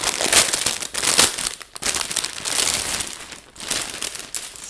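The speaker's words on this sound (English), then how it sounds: "Sorry if this crinkling is loud, it's right next to my mic." Plastic packaging from a t-shirt club box crinkles loudly right beside the microphone in dense bursts of crackling and rustling that stay close and continuous, pausing only briefly.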